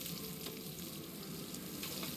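Steady, crackling sizzle of a large piece of meat smoking over a campfire in the survival game Stranded Deep, a continuous hiss with small pops throughout and no talking.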